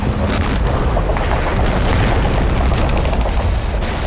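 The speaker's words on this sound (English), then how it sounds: "I'm going to try and use that to pound the Russian line along with my rockets." Massive 600mm siege cannon firing in the Men of War: Barbarossa strategy game, a dense, continuous wall of booming low rumble and crackling blasts that stays loud and close throughout, with no pauses.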